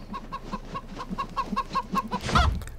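A chicken in the Pirate101 video game clucks in a steady run of about a dozen short, even clucks, close and clear, ending in a louder burst of squawking.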